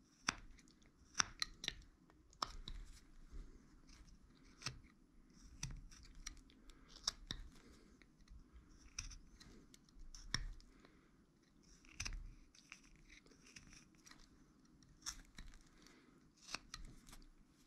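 Carving a stop cut with a knife while whittling a small 3-inch wooden caricature figure, heard as faint, close, irregular clicks and scraping snicks of the blade, with no talking.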